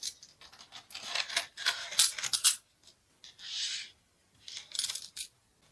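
Korean won coins, including 10-won pieces, clink and jingle as they are poured and handled in several short bursts separated by pauses, close up and fairly quiet, with no one speaking.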